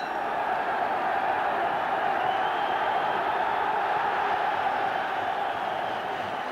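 A huge crowd at a World Boxing Association title fight between Barry McGuigan and Eusebio Pedrosa roars in a steady, dense wash of cheering, heard from a distance with no break.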